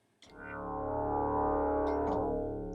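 A Subtractor synthesizer patch, built up from a single sine wave, sounds one sustained rich note that swells in quickly after a short pause and holds steady with a buzzy, layered tone.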